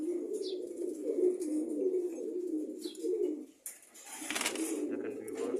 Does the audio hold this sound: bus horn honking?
no